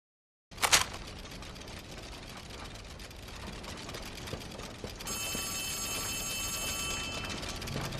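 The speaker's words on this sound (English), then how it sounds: "The phone is ringing." A telephone rings inside the video game Poppy Playtime Chapter 4. The bright, buzzing ring starts midway and repeats steadily for about two seconds over a dark ambient game backdrop, after an earlier sharp burst.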